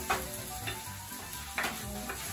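Food frying in a little oil in a pan after onions go in, a steady close sizzle with a few soft stirring scrapes and no talking.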